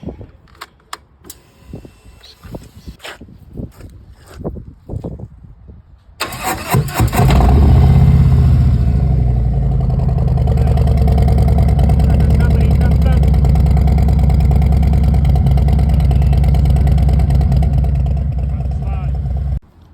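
A 2020 Harley-Davidson Road Glide Special cranks and fires up after some clicks and handling, settling into a loud, close, rumbling idle that holds steady.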